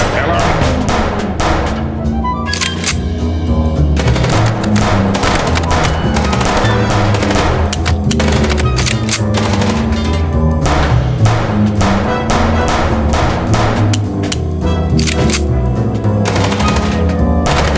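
Loud, dense gunfire from a car chase shootout in Chicken Police, with continuous rapid bursts and heavy thumps layered over a booming soundtrack, nearly unbroken throughout.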